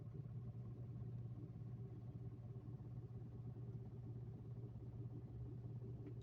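Older mid-generation Mitsubishi Pajero with a five-speed automatic, its engine idling in Drive, a steady low rumble with faint mechanical clatter, heard close and fairly quiet throughout with no talking.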